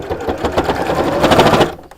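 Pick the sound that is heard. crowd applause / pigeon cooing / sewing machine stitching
sewing machine stitching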